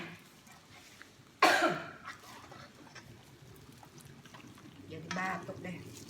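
A single sharp cough bursts out amid quiet kitchen sounds during cooking of black pepper crispy chicken, followed by soft murmurs and low clatter.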